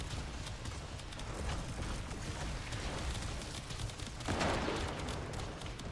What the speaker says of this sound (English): let's start doing a bit of a shooty shoot